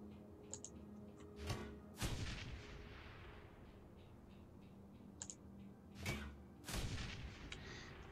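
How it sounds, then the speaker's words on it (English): Grenade explosions in the video game Shadowrun Hong Kong, with several muffled booming thuds in pairs, separated by quiet stretches and faint clicks, all at low volume. "We're using a couple of grenades to soften them up"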